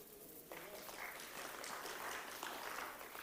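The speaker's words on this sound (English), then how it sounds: "I'm sure you can applaud them." An audience claps at a formal announcement of national matric exam results. The applause is steady and dense, heard from a distance at low level, and lasts a few seconds without any speech over it.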